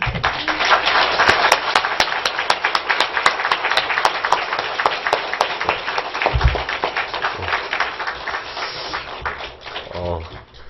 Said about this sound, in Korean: 환영합니다. 하는 박수로 우리 집사님 맞이해 주세요.